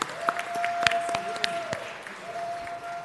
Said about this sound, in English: Give Senator Murray a round of applause.